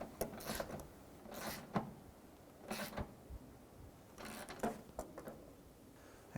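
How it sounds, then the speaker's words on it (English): Ratchet work on the lower fog light bolts of a 2004-2009 Dodge Durango, giving several short bursts of clicking and creaking separated by pauses, close and moderately loud with no talking. "we can now go ahead and snug the 2 lower bolts down"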